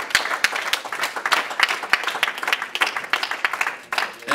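A small church congregation claps in praise during a service, sparse and uneven hand claps with distinct individual smacks at close range.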